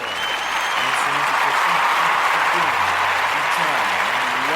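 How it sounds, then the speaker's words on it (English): An audience at a storytelling event gives Gina a round of applause: a steady, full roar of clapping that runs throughout, mixed with cheering and voices underneath. "So I'm going to give Gina a round of applause."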